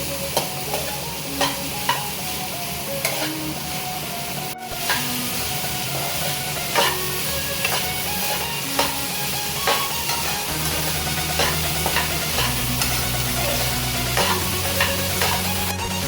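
Chopped ridge gourd fries in a pan with a continuous sizzle, while a spoon scrapes and taps against the pan in irregular strokes, close and fairly loud.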